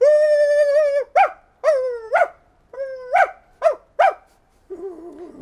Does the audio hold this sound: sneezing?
no